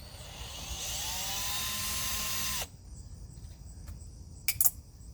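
A power driver backing a screw out of a BMW Z3 convertible top, a whining buzz rising and held for about two seconds before stopping, followed by quiet and a couple of faint clicks.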